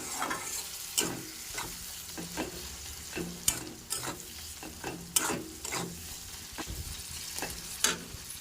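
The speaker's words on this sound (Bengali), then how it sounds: "হলুদ আর নুন দিয়ে এবার এটাকে ভালো করে নাড়াবো, টমেটোগুলো গলে যাবে" An onion and poppy-seed curry with tomatoes, turmeric and salt is stirred in a pan, giving repeated scraping strokes over a soft, continuous sizzle.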